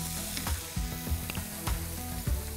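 Jaggery and coconut mixture stirred in a hot pan, a steady close sizzle broken by regular spoon scrapes and knocks roughly every half second, with no voices.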